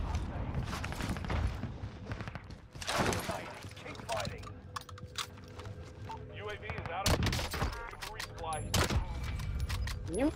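Loud sharp cracks of gunfire from Call of Duty Warzone, with a KAR98K sniper rifle in use, come in separate bursts among game noise, and someone talks over parts of it.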